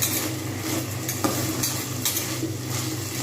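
Potatoes frying in oil in a pan for a Bengali potato and onion-stalk snack, a continuous close sizzle with faint scraping stirs and occasional soft utensil clicks, no talking.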